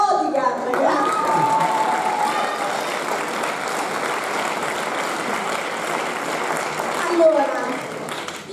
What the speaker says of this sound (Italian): Un applauso ai due bodyguard